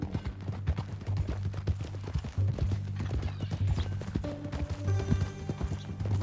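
A horse's hooves clip-clop steadily on the ground in Red Dead Redemption 2, an irregular walking rhythm, close and moderately loud, over a low rumbling game soundscape with tonal music entering near the end.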